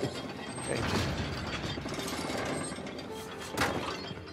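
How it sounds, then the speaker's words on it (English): A chandelier hauled upward by a clanking mechanism in the Uncharted 4 video game: continuous close ratcheting and gear clatter with pulley rattles, steady and loud, with a heavier clunk near the end, no speech. "Raise the chandelier."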